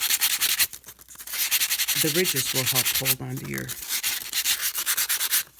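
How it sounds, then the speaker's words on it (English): A handmade craft glue holder is sanded around its bottom edge, a close, steady, scratchy rubbing that runs nearly the whole time while someone talks over it. "going to sand around this bottom edge right here"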